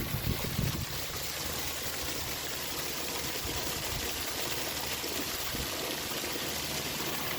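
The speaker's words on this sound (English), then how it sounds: "Have a waterfall here." A waterfall on a river in Lang'ata, Nairobi, pours as a steady, moderately distant rushing stream, with a faint engine-like rumble underneath and no speech.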